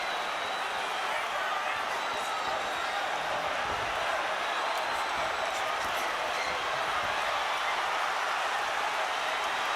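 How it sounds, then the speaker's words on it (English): Boxing arena crowd at a Miguel Cotto vs Yuri Foreman fight, a dense continuous roar of cheering that holds steady and loud throughout, with no breaks. "The crowd is in a fever pitch."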